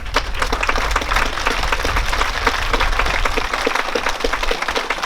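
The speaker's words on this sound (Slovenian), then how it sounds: "Kako močan aplavz si lahko damo?" An audience at a children's choir festival claps steadily in dense, sustained applause filling the hall, loud and close, with no speech over it.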